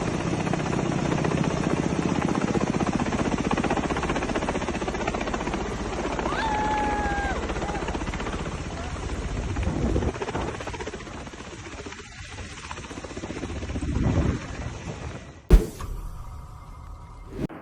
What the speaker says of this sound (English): just one helicopter flying over the beach can turn a relaxing day into complete chaos